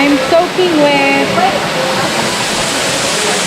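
A waterfall at Nuuanu, Hawaii, a loud, steady roar of falling water up close, with a voice talking over it at the start before the rushing continues alone.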